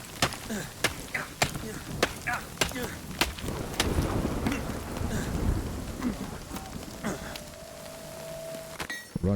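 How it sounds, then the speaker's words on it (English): Hail pelts down during a storm in the Nightingale game, a dense rattling patter with sharp individual impacts and a low rumbling roar underneath, steady and close throughout. "I'm gonna die of hail."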